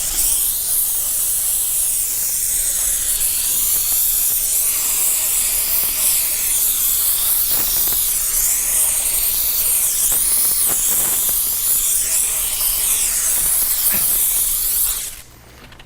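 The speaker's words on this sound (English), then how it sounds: "using something like a steamer to force everything out and soften everything up is huge" A steamer blasts embedded grit out of a car-detailing brush with a loud, continuous close hiss that holds for about fifteen seconds before cutting off abruptly.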